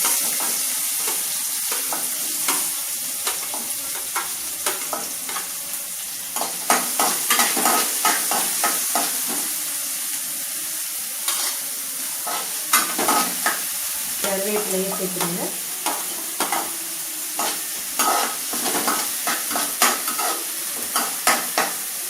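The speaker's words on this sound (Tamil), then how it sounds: "வெங்காயத்தை போட்டு நல்லா வதக்கிட்டுங்க" Onions sauté in a pan with fenugreek seeds for a manathakkali vathal kuzhambu, a constant close sizzle layered with frequent stirring scrapes and clinks of the spoon throughout, with no voices.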